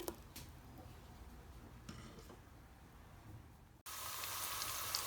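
Onions sizzle in about four spoonfuls of oil in a cooking pot, a soft steady frying hiss that jumps suddenly louder toward the end.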